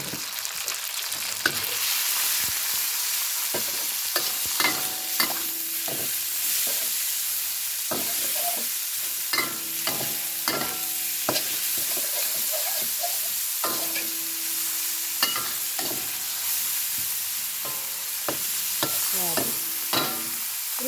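Pork stir-fries in a hot pan with steady sizzling, broken by repeated scraping and clattering of a spatula against the pan, close up, with no talk.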